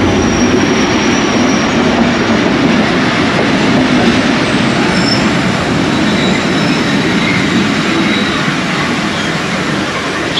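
Shah Latif Express, a Karachi to Mirpur Khas train running as a local, rolls loudly through Karachi Airport railway station, with a dense, steady roar of wheels and carriages close by and faint high squeals, no voices.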